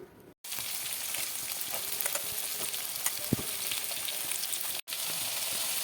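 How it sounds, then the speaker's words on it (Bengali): Beans, carrot, capsicum, peas and green chillies fry together in oil in a pan, giving a steady close sizzle with soft scraping strokes of stirring throughout and two brief cuts in the sound. "এবার সব আমি একসঙ্গে ভেজে নিচ্ছি"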